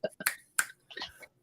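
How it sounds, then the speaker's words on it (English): Sharp finger snaps, a couple of quick pairs with short gaps, crisp and fairly close, with faint voice-like sounds near the end. "Snap your fingers."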